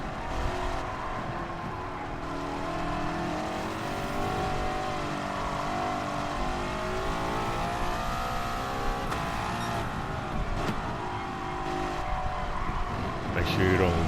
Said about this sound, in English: But the car is pretty fast. It can do over 200 miles per hour, actually, with only 500 horsepower